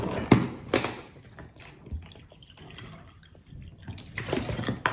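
Drinking water is poured in short close splashes, with a burst near the start and another toward the end and quiet gurgling trickles between them, fairly soft in a quiet room.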